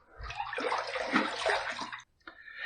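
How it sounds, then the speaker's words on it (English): Water splashing as a face is rinsed during a wet shave, a close, bright spattering rush that runs for about two seconds, stops briefly, then resumes softly. "We're going to go ahead and rinse."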